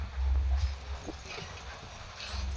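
Two dogs by the roadside give faint, brief whimpers over low rumbling background noise outdoors.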